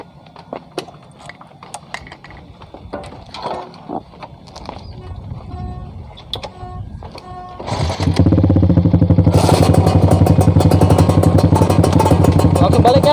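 A motorcycle engine, first puttering faintly under scattered clatter and voices, then starting and revving loud and close in a steady drone that grows harsher toward the end.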